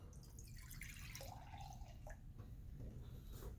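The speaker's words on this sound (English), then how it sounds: "So I like to use a little bit of vinegar first, usually about, I don't know, a cup and a half." Vinegar poured onto a tray, heard as a faint trickling, dripping liquid with a few gurgling splashes, quiet and close with no speech.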